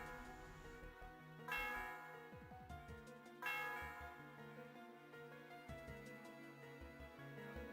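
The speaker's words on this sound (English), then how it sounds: "Krook rang the bell." Celestial Tower bell in Pokemon White 2, two bright struck tones ringing out and decaying over soft game music.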